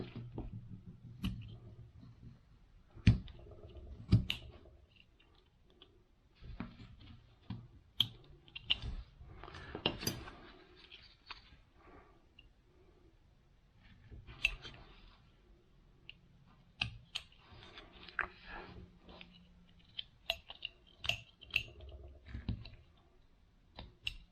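Knife trimming wood on a carved caricature cowboy bust, producing soft, close, irregular clicks and small cutting scrapes in short bursts with quiet gaps between them.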